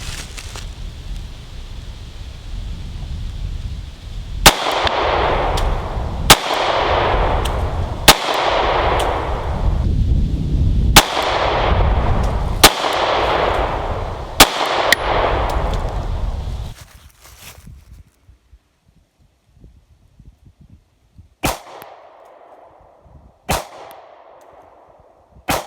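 A Springfield Hellcat pistol fires about nine sharp, loud shots at a steady pace, each ringing briefly, then after a short pause a few more isolated shots crack out.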